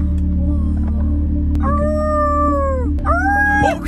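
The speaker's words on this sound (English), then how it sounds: "Guys, there's coyotes right there." Coyotes let out two long, rising and falling howls, clear and fairly close over a steady low hum, the second following right after the first.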